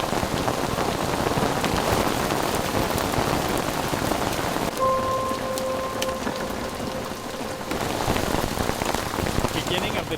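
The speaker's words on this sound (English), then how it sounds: "Rain, it's really coming down now. Starting to hail now too." Heavy rain mixed with hail drums steadily on a vehicle during a storm near the start of the Dempster Highway, a loud dense patter that dips briefly mid-way while a faint tone rings.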